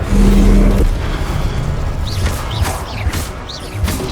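A fire spell cast in the Hogwarts Legacy video game, a loud booming burst at the start followed by crackling, whooshing magical effects and scattered bursts, with no talking.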